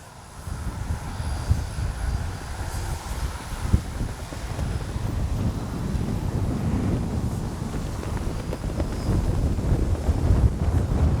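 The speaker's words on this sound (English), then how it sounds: "it is crazy windy." Strong, steady wind roars and buffets the microphone at a field for flying RC planes, a continuous low rumble that grows slightly louder toward the end, with a faint thin whine over it and no talking.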